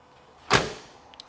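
A single solid thunk of a 1987 Buick Grand National's door shutting nearby, with a short fading resonance afterward.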